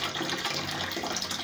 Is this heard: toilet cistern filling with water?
yes